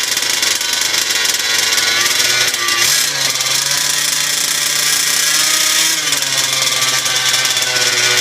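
A fifth-scale RC petrol engine runs steadily during break-in, a loud, buzzing, continuous drone whose pitch shifts slightly partway through, close by with no talking.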